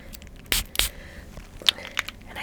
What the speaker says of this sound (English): And I spray that too.